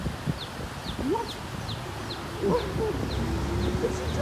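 Chickens in Hawaii clucking, with a rooster among them, give a series of short, evenly spaced chirpy calls and some lower clucks, close by against steady outdoor background noise.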